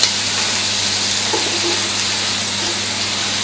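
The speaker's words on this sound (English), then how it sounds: "nice bit of colour on that, good sizzle as we turn it over." Carne asada sizzling in a hot pan as it is turned, a loud, steady crackling hiss with a brief stir of movement partway through.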